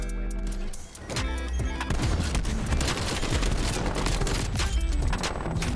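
Gunfire in the video game Call of Duty Cold War, played on a budget gaming PC, comes as a loud, dense, continuous barrage of rapid shots and bursts with brief lulls, no speech.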